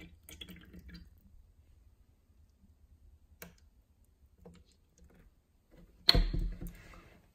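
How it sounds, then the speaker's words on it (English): Faint scattered clicks and taps, then a sudden burst of purified water splashing into a container that fades over about a second. "Open and let's pour some water in."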